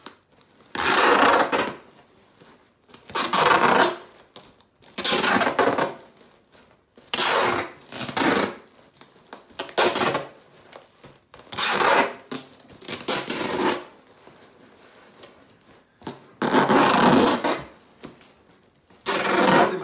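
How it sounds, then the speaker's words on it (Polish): Repeated rasping strips of adhesive tape pulled and wound around a paper balloon, about a dozen bursts in a steady rhythm with short pauses between, close and fairly loud. "Musimy zawinąć cały balon dokładnie taśmą, tak żeby nie było tego papieru wcale widać"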